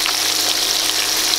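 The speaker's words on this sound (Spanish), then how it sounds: "ya las estoy friendo en abundante aceite" Cod and potato balls fry in plenty of hot oil, giving a loud, steady, close sizzle that crackles without a break from start to finish.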